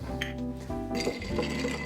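Ice being stirred in a cocktail mixing glass for a coffee-style evening drink, a short run of light clinks and rattles over a steady low background hum, close and moderately loud.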